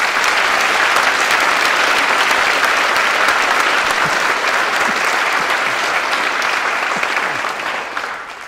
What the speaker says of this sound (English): Can I get a big round of applause for them?